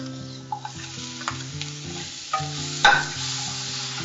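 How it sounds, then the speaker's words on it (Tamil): Masala for a mutton keema fries in a pan, a soft sizzle broken by a few scraping stirs and clinks, with a sharper clatter near the end and an underlying steady tonal hum. "இப்போ மசாலா நல்லா வதங்கிடுச்சு"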